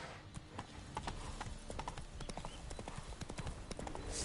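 Hooves of the horse Roach in The Witcher 3: Wild Hunt clip-clop in a quick, steady gallop, close and continuous over a low ambient bed, with no talking.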